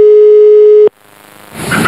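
A single steady telephone tone sounds on a call to the authorities in Arboga, Sweden. It holds for under a second, then breaks off into a faint line crackle that swells into hissing noise.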